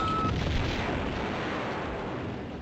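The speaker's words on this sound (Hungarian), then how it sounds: "Mi volt ez a nagy robbanás," A big explosion in the 1997 video game Tomb Raider 2, set in Tibet, rolls out as a loud, deep rumbling boom that slowly fades away.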